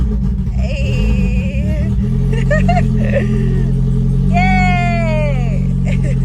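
A Toyota Corolla with a newly fixed starter cranks, catches and revs in rising bursts up close, while people talk and exclaim over the engine.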